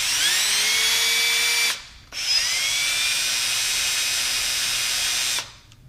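A power drill whines loudly at close range while setting a stainless steel rivet on a Hobie 16 catamaran fitting, in two sustained bursts split by a brief pause.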